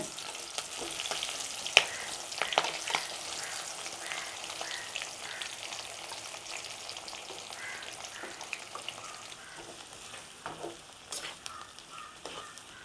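Three chopped onions fry in a pan for a village-style oil brinjal curry: a soft, fairly faint crackling sizzle with scattered small pops and spatters.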